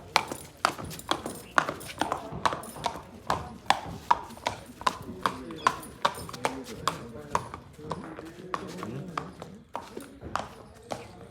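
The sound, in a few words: horse hooves clip-clopping at stud farm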